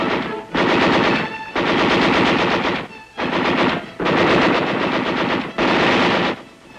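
Loud machine gun fire in Vietnam War combat, with enemy fighters pouring fire on U.S. armored vehicles and troops, arriving as five sustained close bursts separated by brief pauses.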